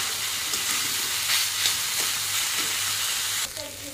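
Boal fish roe fries steadily in a hot pan with spices, a loud continuous sizzle and hiss with faint stirring scrapes, ending in a softer rattle.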